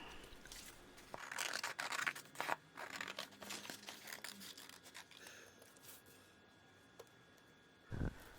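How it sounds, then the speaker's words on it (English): Scissors cutting wing shapes out of glossy magazine pages for a junk journal, with crinkling, rustling paper and rasping snips close by, busiest early on, then quieter handling and a final sharp rustle. "pick out the wings, I'll cut them out"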